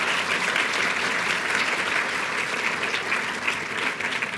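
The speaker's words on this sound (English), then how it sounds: "I think a big round of applause for John being here." An audience at a career retrospective event for a film director breaks into a big round of applause, a thick continuous wash of clapping from many hands that stays steady and loud throughout.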